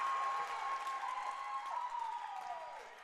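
Crowd noise at a JV basketball championship game in a gym, a faint, distant swell of applause and cheering with a steady tone running under it, fading slightly toward the end.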